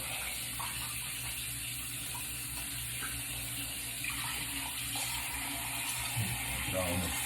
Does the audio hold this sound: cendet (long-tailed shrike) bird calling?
no